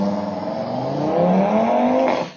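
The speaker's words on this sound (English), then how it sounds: "I don't know why that fucking car is revving its engine like we're in the Grand Prix." A car revving its engine on a street in Reading, a loud, steady engine drone that climbs in pitch and then cuts off, with no talk over it.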